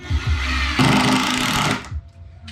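An impact driver drives screws into bed boards in a camper van, a loud close burst of rapid mechanical hammering lasting about a second, set between softer handling knocks.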